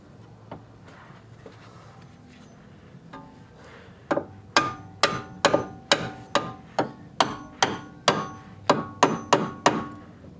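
A hammer beats a rubber bushing off a BMW E46 front lower wishbone, with a few scattered knocks followed by a steady run of about fifteen sharp metallic blows, close and loud.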